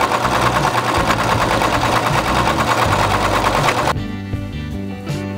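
Sewing machine stitching a fabric headband, a steady loud mechanical whir with rapid needle clatter running continuously for about four seconds, then stopping abruptly and leaving a quieter hum.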